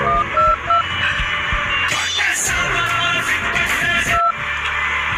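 A phone is dialed for a call: a few short electronic keypad beeps sound at the start and one more near the end, mixed into busy music and background noise.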